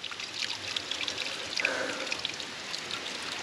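Cold water pours and trickles from a mountain spring fountain near a small cave at Seresi in the Tzoumerka mountains, a steady close splashing stream with scattered drips and no voices.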